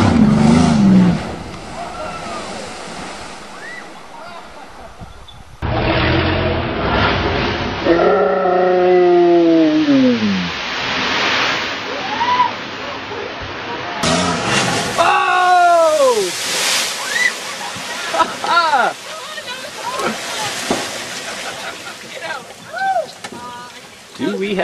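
A 1994 Chevrolet Cavalier with a cracked engine block is driven flat out into a lake, its engine roaring loudly before a splash and churning water. Excited shouting and cheering carry over the car noise throughout.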